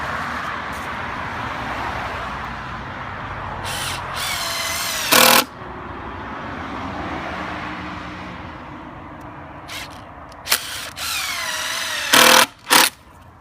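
Power drill driving screws into a campaign sign, with several short bursts of whirring: one around five seconds and a cluster of brief bursts near the end, standing out over steady background traffic noise.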